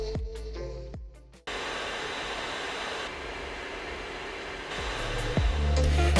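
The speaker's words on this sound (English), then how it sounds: "Of course, you'll have louder maximum fan noise." MacBook Pro 16-inch i9 laptop fan running at maximum speed, a loud steady broadband whoosh that cuts in abruptly and holds, close and without talk.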